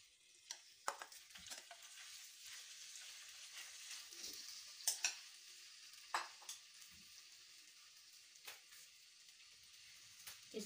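Finely chopped boneless chicken fries in four tablespoons of oil in a pan, heading for a pizza topping: a quiet, steady sizzle broken by scattered sharp clacks of stirring, with no voices.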